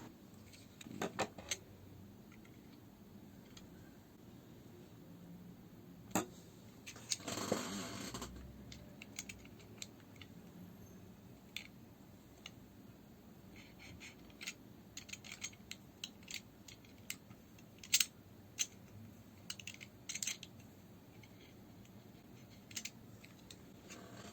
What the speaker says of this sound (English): I'm trimming the sides of the late 2011 LVDS cable so that it freely connects to the socket on the mid 2012 logic board.